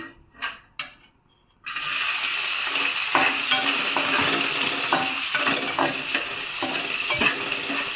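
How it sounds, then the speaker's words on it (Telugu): Sliced onions and green chilies go into hot oil: after a few soft knocks and near silence, a sudden loud sizzle erupts and continues steadily with stirring scrapes and crackles. "ఆయిల్ హీట్ అయిన తర్వాత ఉల్లిపాయలు పచ్చిమిర్చి వేసుకుందాం"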